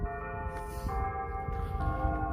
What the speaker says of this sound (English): it must be 6 o'clock if you hear the bells